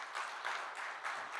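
Audience applause for a speaker at a forum, a brief burst of steady clapping with slight pulsing swells.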